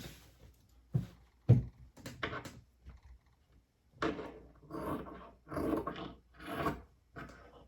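Scissors trim through men's fitted-shirt fabric at the back panel below the yoke, giving close, intermittent rasping snips and rubs in short bursts separated by quiet gaps.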